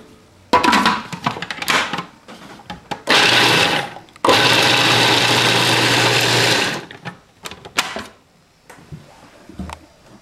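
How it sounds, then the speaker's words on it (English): A kitchen blender whirs loudly in several bursts, blending a California black walnut mixture with chili powder: short pulses first, then one long steady run of about three seconds before winding down, and no one talks. "then I'll taste it when we get done blending that"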